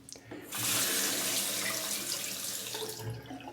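Tap water gushes steadily into a sink to rinse a Parker 90R razor, starting abruptly and running as a close, loud hiss for about three seconds before tapering off.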